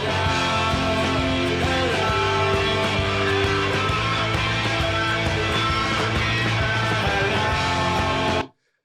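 An excerpt of a rock song plays, with full-band guitars, drums and vocals at steady volume, before cutting off abruptly just before the end.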